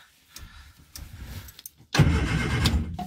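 An Austin/Morris Moggy van being started for the first time in a year: a few faint clicks and sputters, then the engine cranks loudly and steadily for about a second, with no voices.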